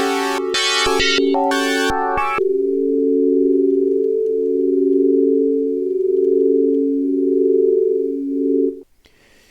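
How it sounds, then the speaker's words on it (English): A few bright, buzzy synth stabs from a chord organ give way to a smooth, pure sine-wave chord that holds steadily with a gentle slow beating before stopping. "we have just plain sine waves"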